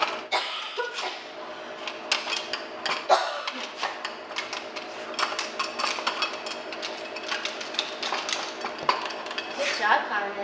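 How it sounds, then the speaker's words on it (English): A dog nudges a treat puzzle toy around on a hard floor, giving a steady run of clattering, rattling plastic knocks and scrapes as it works the treats loose. "Put the treats inside, and the doggies need to figure out how to get them out."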